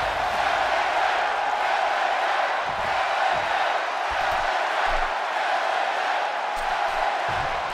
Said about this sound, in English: Loud crowd chants for LA Knight here tonight, live here on Raw.